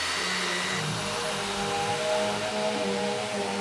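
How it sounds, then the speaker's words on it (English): A vacuum cleaner droning steadily throughout, loud and close, a continuous broadband roar with no talk, heard in a television drama scene set near a home office. "a sound transition from Walter's drilling under the house, or whatever it is he's doing to remove the rot he found in the foundation of the house"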